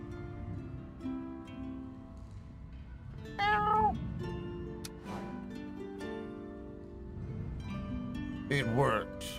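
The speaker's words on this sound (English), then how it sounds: "Meow with precision. No one can tell you're not an actual cat." A couple of distinct cat meows sound in a video game demo, standing out over a low fiery roar and a quiet musical background.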